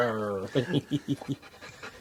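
A dog pants rapidly and close up on a sailing trip, with about six quick, breathy huffs in a steady rhythm. A short vocal sound comes just before them.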